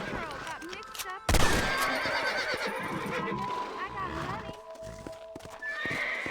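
Horses in the Red Dead Redemption video game neighing loudly in a sharp whinny, then clip-clopping hooves and snorts beneath voices talking, with tonal music-like game sounds layered through.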